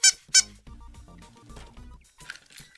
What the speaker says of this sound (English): I think it squeaks.